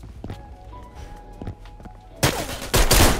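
Gunfire in a World War Metro video game: quiet footsteps and small knocks over a faint tonal hum, then a burst of loud, dense automatic fire that starts suddenly near the end and grows heavier.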